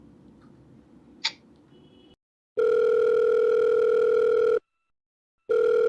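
An outgoing telephone call rings back with a steady electronic ringing tone in two long pulses separated by silence, preceded by faint room noise and a small click.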